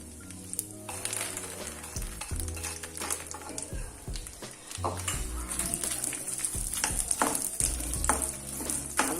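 Makhana and raisins sautéing in hot ghee, with a steady sizzle and scraping stir strokes in the pan, heard close over faint background.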